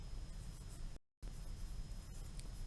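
Pen strokes scratch on a classroom board as someone writes, a steady close scraping broken by a short silent gap before the writing continues.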